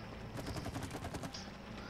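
Rapid bursts of gunfire aimed at an insect nest in the co-op video game It Takes Two, a dense volley of sharp repeated shots across most of the moment, tapering off near the end with no talking.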